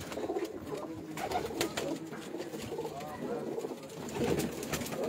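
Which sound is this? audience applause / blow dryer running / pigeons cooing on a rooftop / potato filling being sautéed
pigeons cooing on a rooftop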